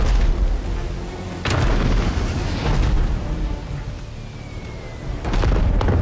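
Cannon fire and explosions aboard a ship in the naval game Abandon Ship, with several heavy booms and blasts over a rumbling battle din, loud and close.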